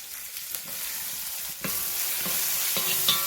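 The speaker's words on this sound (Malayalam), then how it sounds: "ഇതേ എണ്ണയിലേക്ക് തന്നെ ഞാൻ 2 തണ്ട് കറിവേപ്പില ഇട്ട് കൊടുക്കുകയാണ്." Curry leaves and crushed spices fry in hot oil with a close, steady sizzle, punctuated by a few soft stirring clatters and pops, with no voices.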